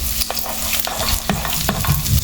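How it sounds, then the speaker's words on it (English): Roughly chopped green chilies and onion frying in a hot pan for a spicy Kerala dry anchovies curry, a loud close sizzle with stirring scrapes and knocks, no talking. "Here I am adding some green chilies, roughly chopped, and onion"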